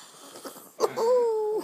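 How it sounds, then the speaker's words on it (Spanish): A person breathing very deeply while asleep, with a short rough intake and then a long, wheezy, whistling snore that draws out close by. "Está respirando muy profundo."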